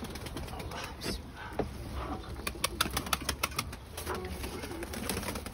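Pigeons close by, with soft cooing and bursts of wing flapping over a steady background, while people talk faintly nearby.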